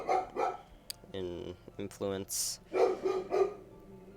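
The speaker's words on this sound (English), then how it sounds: "I'm so sorry about the dog." A pet dog at home barking at workers building a deck, several sharp barks and yips in a short run, moderately near, heard under a man's speech and mixed with it.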